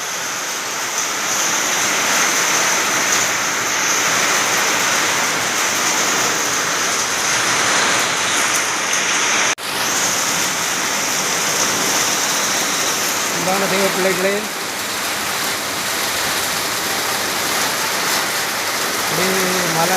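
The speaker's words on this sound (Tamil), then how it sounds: "மழை அந்த மலையிலெல்லாம் நல்லா இறங்கிட்டுது." Heavy summer rain falls steadily in hilly country, a dense, continuous hiss that lasts the whole twenty seconds. A voice speaks briefly over it partway through.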